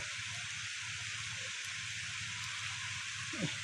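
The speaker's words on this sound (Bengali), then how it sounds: "প্রচুর বৃষ্টি হচ্ছে" Heavy rain pours beside a river, a dense and even hiss that holds steady throughout with no pauses.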